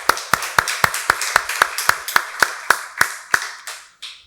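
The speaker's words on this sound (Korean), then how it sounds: "박수로 하나님께 영광 돌리겠습니다." A congregation claps in unison during a Korean Sunday church service, giving about thirteen sharp, evenly spaced claps in a steady beat that slows slightly and ends with a fading last clap.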